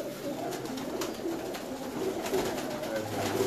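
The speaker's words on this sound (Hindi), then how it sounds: "लाल मोतियों वाले कबूतर" Pigeons of a red-beaded breed coo softly at a keeper's loft near Mangla Road, a steady low murmur of overlapping coos throughout with a faint background hiss and no talk.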